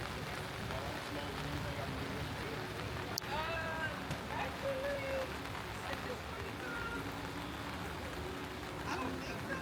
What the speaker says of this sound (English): it just started raining right whenever we got set up